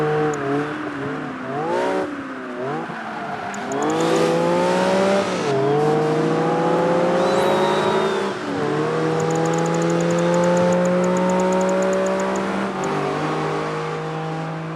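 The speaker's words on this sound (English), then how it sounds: "Cars revving and accelerating all sound accurate and well done." Racing cars in Project Gotham Racing 3 rev and accelerate loudly, engine pitch climbing and dropping through repeated gear shifts, with a sustained high-revving drone from a close, fast car and no talk.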